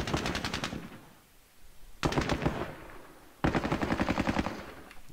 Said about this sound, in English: Right, heavy machine gun.